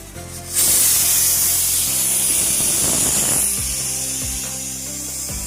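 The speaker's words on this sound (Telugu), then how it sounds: "విజిల్ పెట్టుకుని ఏడు ఎనిమిది విజిల్ వచ్చే వరకు వేయించుకుందామండి" A pressure cooker whistle: a loud, steady hiss of steam bursts out and holds for several seconds, close and unbroken, with a faint mechanical rattle underneath.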